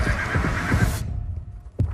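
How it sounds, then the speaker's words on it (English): A racehorse gives a loud, close neigh that lasts about a second, followed by quieter rumbling and a short final snort. "What made Secretariat the greatest racehorse who ever lived?"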